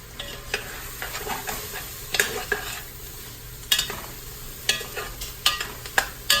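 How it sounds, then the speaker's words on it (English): Steady sizzling of sausage frying in a pan, with occasional sharp scrapes and clinks of a spoon stirring, close by and moderately loud. "I'm just going to kind of let that continue frying for a moment"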